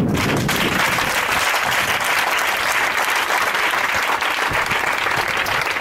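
Sustained, loud applause from a church congregation at a Sunday worship service, dense clapping filling the whole stretch without a break.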